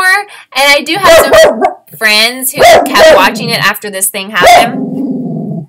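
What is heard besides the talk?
dog barking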